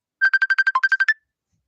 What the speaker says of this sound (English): My son's ringing me